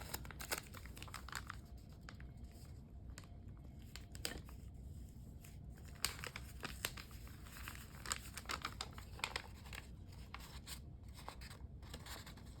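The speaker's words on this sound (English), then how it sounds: "I'm gonna tear that part off" Paper page being torn and crinkled by hand while assembling a butterfly junk journal, soft close rustling and ripping in repeated short bursts over a quiet background.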